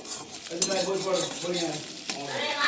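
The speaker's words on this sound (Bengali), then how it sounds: "ডিমটা একটু ভাজা ভাজা করে নেব।" Steady sizzling of egg frying in a pan, close up, with a couple of sharp utensil clicks and faint stirring sounds.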